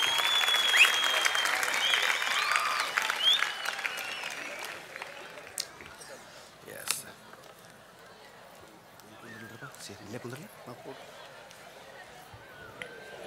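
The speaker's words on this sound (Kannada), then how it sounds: "ಜೋರಾದ ಚಪ್ಪಾಳೆಯೊಂದಿಗೆ ಧನ್ಯವಾದಗಳನ್ನು ಹೇಳ್ತಾ" Loud audience applause at a comedy festival show in Gangavati, dense clapping and crowd noise that swells strongly at first, then thins and fades, with faint chatter mixed in.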